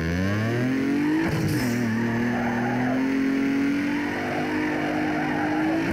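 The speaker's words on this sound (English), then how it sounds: "Looks like downhill drift. Yeah, that's a downhill drift." Tires squeal in a long, loud sustained skid as a car drifts downhill in the Need for Speed Underground 2 racing game, engine droning underneath the whole time with a brief burst of noise early on.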